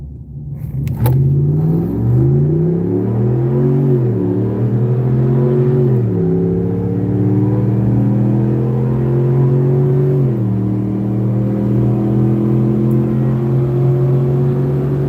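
A Chevy race car engine revs loudly and holds a steady, throaty roar, its pitch climbing and dipping several times without a break.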